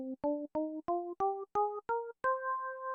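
A minor scale played on a sustained, pitched instrument: eight clear notes climb step by step in an even rhythm, and the last note is held longer. Close, clean and alone.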